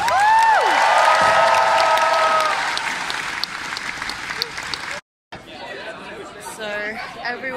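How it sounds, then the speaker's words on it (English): Crowd applause and chatter at a cosplay competition at the MCM London convention, loud and steady with cheers, then a brief cut to silence followed by softer crowd noise and talking. "Give her a round of applause!"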